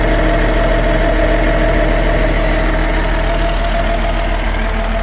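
A 2012 Kawasaki 70Z5 machine with no DEF idles loudly and close by, a steady low engine rumble with a constant throb for the full five seconds and no talk.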